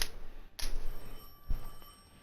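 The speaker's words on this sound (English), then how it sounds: "I felt the ringing more than I heard it." A telephone rings during a video game cutscene in Edge of Fate, heard as faint ringing under dull rumbling thuds and a muffled, atmospheric background with no talk.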